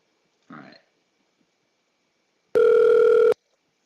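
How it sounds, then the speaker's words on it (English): A single loud, close electronic phone ring, a steady buzzing tone lasting under a second, follows a short muffled noise in an otherwise quiet room. "Somebody's calling my other phone right now."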